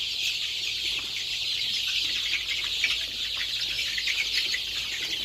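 A dense, steady chorus of native chickens of mixed colours, including month-old chicks, clucking and chirping fills the space, with constant hissy background noise and no talking.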